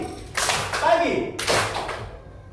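Students clap their hands together in a classroom clapping game, two short bursts of close, sharp claps separated by a brief pause, with a teacher's voice calling out between them.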